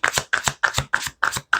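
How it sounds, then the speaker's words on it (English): Sturdy tarot cards shuffled in quick, loud bursts, about six rhythmic riffling strokes close up, each separated by a brief gap of silence. "I apologize if these cards shuffle really loud."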